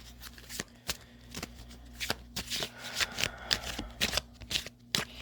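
Tarot cards being shuffled and drawn, giving a series of quick crisp riffling and snapping bursts at close range with no talking.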